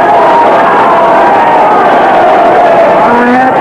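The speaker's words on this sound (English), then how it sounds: "Listen, they is cheering for me." A crowd cheers continuously at a cartoon wrestling match from 1934, a loud, dense roar of many voices that stays steady throughout with no pauses.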